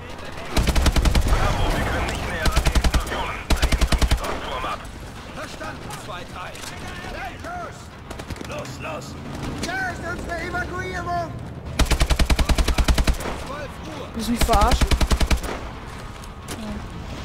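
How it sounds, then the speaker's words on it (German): Repeated bursts of rapid automatic gunfire in Call of Duty: Advanced Warfare, loud and close, broken by quieter stretches with chirpy game sounds and voices. "Warum schießen die Leute?"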